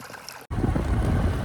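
Irrigation water running through an onion field: a dense, steady rushing wash that cuts in after a brief dropout and carries on loud and close, with some wind buffeting the microphone.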